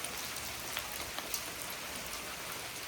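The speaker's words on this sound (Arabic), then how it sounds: "حبوا برد ما شاء الله" Hail falls in a steady, dense hiss, with occasional sharper pellet impacts standing out against the continuous outdoor patter.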